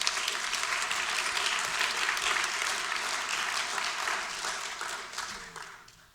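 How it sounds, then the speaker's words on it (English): An awards-ceremony audience at an Asian American and Pacific Islander Heritage Month event gives sustained, even applause for an honoree, which tapers off slightly toward the end, heard alone without talk. "So I want a round of applause for Grace Lee."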